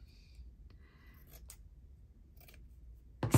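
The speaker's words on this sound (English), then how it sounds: "I need scissors that cut" Scissors snip through cheesecloth for a mixed-media stitching piece, a few short, crisp cuts scattered across a quiet moment, ending with a louder clunk as the blades or tool are set down.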